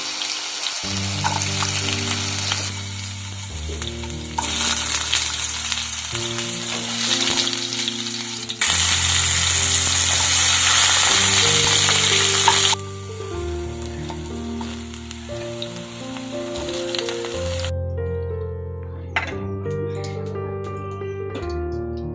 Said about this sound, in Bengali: আলুগুলোকেও একইভাবে ভেজে নেব